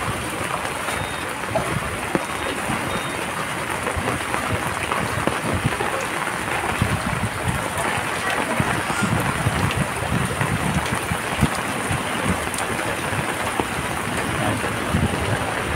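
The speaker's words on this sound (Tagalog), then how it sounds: "suungin natin tong lakas ng ulan" Heavy rain pours steadily during a typhoon, a dense continuous hiss of drops on surfaces and water that stays loud and unbroken throughout.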